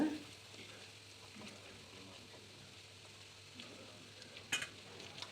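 Paneer pieces frying in oil in a home kitchen give a faint, steady sizzle throughout, with a few soft stirring scrapes and one brief sharper clatter near the end.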